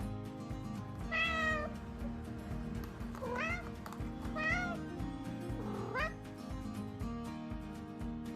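Four separate meows from Ray, a blind cat with no eyes, rising and falling in pitch over steady low household noise, fairly close and clear, with no talk.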